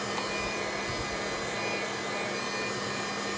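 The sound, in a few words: heat gun blowing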